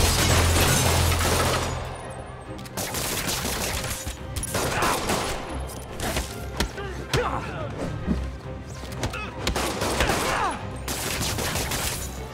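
Criminals fire guns in Spider-Man on PS4 Pro: rapid bursts of shots and impacts, crashes and thwacks crowd a dense, busy fight mix for the whole stretch, with shouting voices mixed in.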